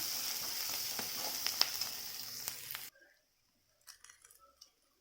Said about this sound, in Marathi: त्याच्यातच टाकले शेंगदाणे